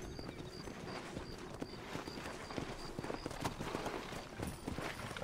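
Horse hooves clip-clop steadily in the Western video game Red Dead Redemption, a brisk continuous trot of close, sharp hoofbeats over faint background ambience.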